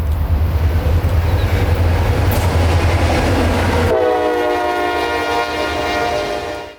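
CSX local freight A782, a daily local out of Wildwood yard, rumbles loudly downhill southbound past the Dade City depot, wheels and cars droning, then a sustained multi-tone horn blast takes over for the final few seconds.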